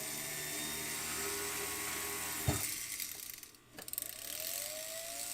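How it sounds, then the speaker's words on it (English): A power drill bores holes, whirring steadily and close up, with a sharp catch partway through, a brief drop in pitch and a spin back up. "now I'm going to go ahead and drill in all those other areas"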